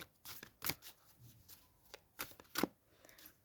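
Tarot cards are shuffled and drawn by hand at close range, giving a string of quiet, crisp riffling flicks and soft slaps in uneven bursts with pauses, and no talking.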